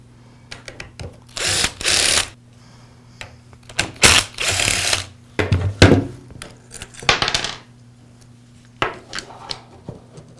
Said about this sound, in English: Now I'll remove these two screws, and that'll allow me to pull the rest of the handle assembly away.